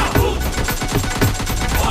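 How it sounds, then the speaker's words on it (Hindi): Rapid bursts of automatic gunfire from a PUBG Lite match, a dense run of sharp shots crackling one after another with no pause, loud and close. "हम इधर गोली चला रहे हैं और ये पीकॉक जी बग्गी पे गोली मार रहे हैं।"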